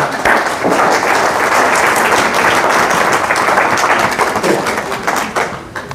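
Applause breaks out at a funeral service in Brussels: dense, close clapping from a gathered crowd, steady for several seconds before tapering off at the end.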